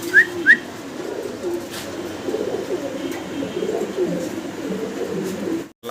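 Red checker Mundian pigeons at a wholesale pigeon seller coo in a low, continuous murmuring burble at moderate distance, opened by two short sharp whistle-like chirps, with no speech.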